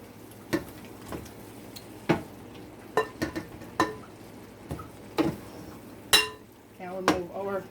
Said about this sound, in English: Gonna add the cabbage in slowly,